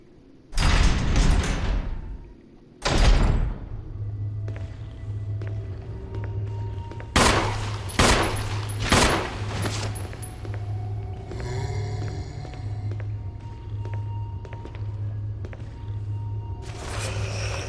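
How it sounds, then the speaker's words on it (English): Gunshots fired at a zombie in a Resident Evil remaster, several loud sharp blasts in two early bursts and a later cluster, over a steady low game hum and ambient tones, with no talking. "Just let Jill automatically hone in on her homing skills and shoot away."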